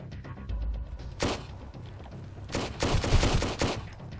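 Pistol fire in the survival video game Sunkenland comes as several sharp, loud reports, one isolated shot followed by a quick cluster of shots, against game background noise.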